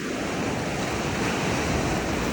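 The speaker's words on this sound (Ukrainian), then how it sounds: "Трошки розбушувалося море. Вийки такі підіймаються." Rough sea waves breaking on the shore at Lebedivka, a dense continuous roar of surf close by with wind rushing over the microphone and no voices.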